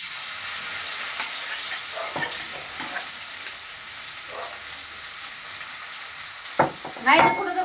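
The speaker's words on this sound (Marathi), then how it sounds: "चांगली तळून घ्यायची मिरची" Green chillies fry in hot oil in a pan, a constant close hissing sizzle punctuated by a few stirring clinks and scrapes, louder briefly near the end, with no talk over it.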